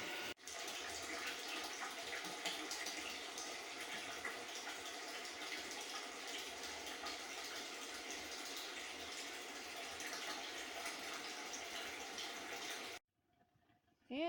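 Water pumped into an off-grid house pours steadily as a continuous broadband rush, loud and unbroken for about thirteen seconds, then cuts off abruptly, leaving near silence with a faint trickle.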